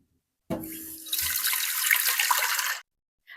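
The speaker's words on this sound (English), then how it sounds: "I use my regular pot and I catch water in it." Water runs from a tap into a pot for a couple of seconds, a steady splashing rush that starts suddenly and cuts off, with no talking.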